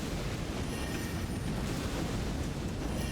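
Fiery explosions in the game Elden Ring Shadow of the Erdtree form a dense, rumbling roar of continuous bursts, loud and close with no speech over them.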